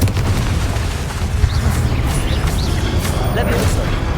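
The Confringo fire spell from Hogwarts Legacy sets off blasts: deep, rumbling booms and bursts layered into a dense, continuous roar, with a voice present beneath the explosions.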